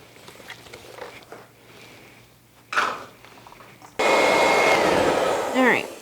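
A hand mixer whirs loudly and steadily through pecan bundt cake batter with vanilla for about two seconds, following quieter kitchen handling and a brief clatter.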